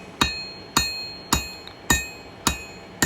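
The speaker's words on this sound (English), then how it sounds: "now I'm just using half face blows in the round side of the hammer" Hammer blows with the round side of the hammer forging 1095 high carbon steel on an anvil, six sharp ringing metallic strikes at an even pace, each decaying quickly, close and loud.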